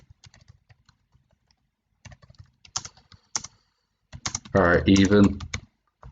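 Quick clicks on a computer keyboard tap out a short run of typing, with a soft voice speaking briefly in between.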